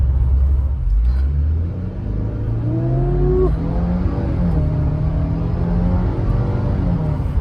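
A 2022 Subaru WRX engine hums and rumbles steadily up close, its pitch rising and sliding as the car drives through a tight turn, with faint tire whine.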